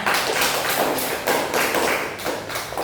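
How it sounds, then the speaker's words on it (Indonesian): Classroom applause for a student, a close burst of rhythmic clapping with pulsing beats lasting a few seconds, without speech. "Mungkin bisa diberi aplaus kepada temannya"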